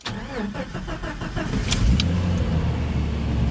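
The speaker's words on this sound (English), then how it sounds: "So I'm going to start it up." A Jeep Comanche engine cranks with a rapid starter chatter, catches, and settles into a steady close-up idle rumble.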